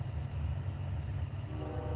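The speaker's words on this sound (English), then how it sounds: "Is that another train?" A steady low rumble of a train passing at a distance, continuous and even throughout, with no voices.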